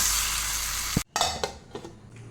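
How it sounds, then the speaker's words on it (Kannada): A hot tempering of mustard seeds, curry leaves and cut dried red chilli hits salted raw mango with a loud, dense sizzle that cuts off abruptly, followed by a few light clinks and scrapes of utensils. "ಇವಾಗ ಒಗ್ಗರಣೆಯನ್ನು ಹಾಕ್ತೇನೆ."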